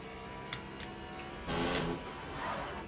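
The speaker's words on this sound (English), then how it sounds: "I gotta give it, this is the best sounding car." Le Mans Ultimate hypercar on the Spa circuit, its engine revving faintly in the background with a louder surge around the middle, a couple of short clicks earlier, no talk.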